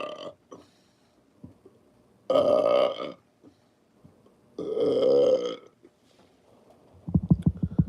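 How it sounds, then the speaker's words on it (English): A person lets out two long, loud burps close to the mic, separated by quiet pauses with a few short vocal sounds, followed by a rumbling rhythmic pulse at the end. "Oh, let me burp, guys."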